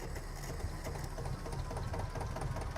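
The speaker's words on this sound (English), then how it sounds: "Start the engine first." A vintage tractor engine in Farming Simulator 22 runs at a rapid, even mechanical chatter, a fast ticking idle with a faint knock, steady and fairly quiet, with no voices.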